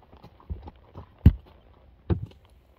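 Hooves of an Appaloosa gelding walking outdoors at a park, a few soft, irregular clops and thuds, with two heavier steps standing out, fairly close with quiet background.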